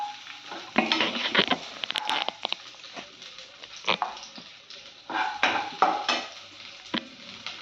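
Chopped onion fries in hot oil in a pan for a Tamil poondu keerai dish while a spatula stirs and scrapes, giving irregular clattering bursts over a soft, low sizzle, with no talking.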